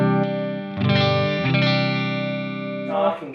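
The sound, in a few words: electric guitar played through a clean amp tone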